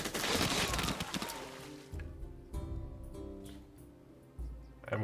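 A ranged unit fires in the strategy game Humankind: a burst of crackling volley shots up front, then several sharper impacts and thuds spaced over the following seconds, loud and close.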